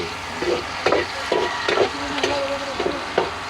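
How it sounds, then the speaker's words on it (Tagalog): Onions fry in a pan, with a close sizzle broken by regular scraping stirs about every half second. "Tapos atin na po lalagyan mga idol itong sibuyas."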